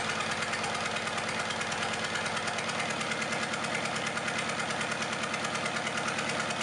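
Rugged cast-iron vintage engine runs steadily with a loud, even, rapid knocking beat, close and continuous with no voices.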